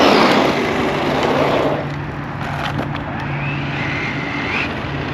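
A Traxxas Rustler 4x4 RC truck, upgraded to the MAX, runs at full throttle with a high, strained motor whine and gritty tire noise that is loudest at first, then fades slightly as it moves off.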